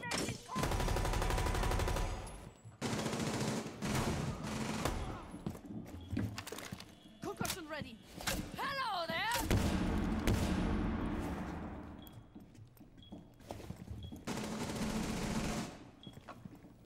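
Gunfight in a tactical shooter video game: loud rapid bursts of automatic gunfire and single shots in clusters, with pauses between exchanges and faint talk in the background.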